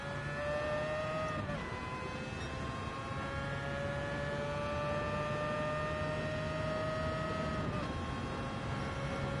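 Race car engine held at full throttle in Gran Turismo 7 on the Daytona Road Course, a steady high-pitched whine with rising harmonics and a brief gear-shift dip, loud and continuous with no talking.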